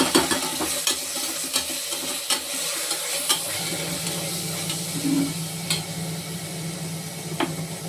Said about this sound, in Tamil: இந்த அளவுக்கு வெங்காயம்லாம் வதங்கிக்கிட்டு இருக்கு.